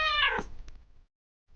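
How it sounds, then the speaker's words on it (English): A domestic cat gives a single loud, close meow that falls away after about a second, followed by brief quiet. "cat,"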